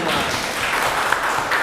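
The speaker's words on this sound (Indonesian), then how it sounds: "Tepuk tangan dulu untuk kita semua." Audience at a business training seminar clapping, a dense, steady burst of applause filling the room for a brief moment.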